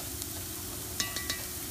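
Onion and spices, chili powder among them, sizzle in a pot for pumpkin chili, a faint steady frying hiss with a few light clinks of stirring near the end.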